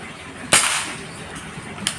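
A single sharp shot from a Marauder air rifle with an Alfa barrel cracks out, followed by a brief second snap near the end, over quiet background hiss.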